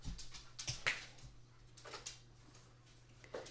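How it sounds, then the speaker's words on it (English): Dogs barking in short, scattered yelps and barks indoors, fairly faint, with a low steady hum underneath. "the dogs"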